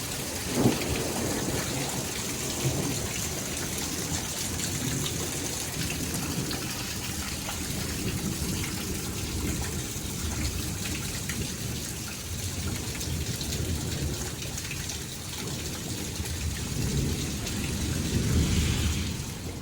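Thunderstorm rain falling steadily across Highland County, Ohio, a dense close hiss of drops with a sharp crack early on and deep rumbles of thunder rolling through, growing louder again near the end.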